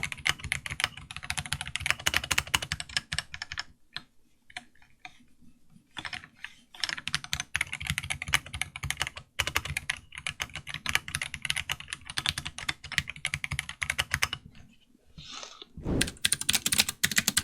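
Steady, fast typing on an AKKO Mod 008 mechanical keyboard with Kailh Brown switches, GMK keycaps and thicker O-rings gives dense, close clacking, broken by a few brief pauses.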